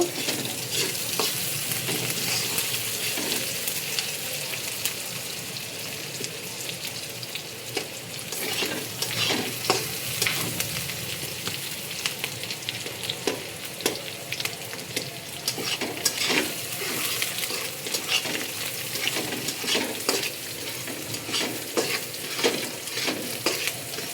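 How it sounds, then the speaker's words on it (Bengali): Onion fries in rice bran oil in a wok for pulao, a close, continuous sizzle broken by repeated scraping stirs and clinks of a spatula against the pan. "পেঁয়াজটা হালকা ভেজে নিব।"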